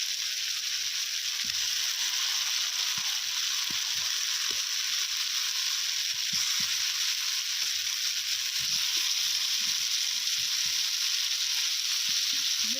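Fried potatoes sizzling in a spice masala in a pan, a steady loud hiss with scattered soft clicks and taps throughout, no voices.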